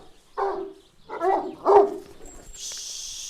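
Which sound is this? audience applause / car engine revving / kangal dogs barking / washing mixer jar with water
kangal dogs barking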